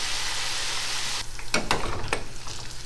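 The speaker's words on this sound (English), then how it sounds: "Now we're going to fry them till they're golden." Food fries in hot oil until golden, a steady broad sizzle with a few sharp crackles and pops near the middle, no voices.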